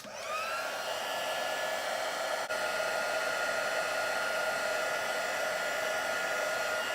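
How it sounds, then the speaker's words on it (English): An embossing heat tool blowing hot air over a stamped sentiment on a handmade card, a loud continuous whirring hum that holds steady for the whole stretch with one brief dip. "going to heat it with the heat tool"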